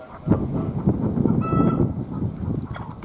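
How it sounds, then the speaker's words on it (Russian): Loud honking squawks from farmyard fowl, probably a chicken, ring out repeatedly through a noisy outdoor petting-farm scene with a steady crowd murmur underneath. "Курица орёт."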